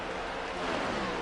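A Next Gen NASCAR race car in the NASCAR Heat 5 video game drones steadily with a loud, buzzy engine roar at Martinsville, close and unbroken.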